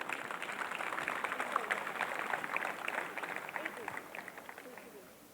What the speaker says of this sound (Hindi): तालियां तो बजा सकते हैं।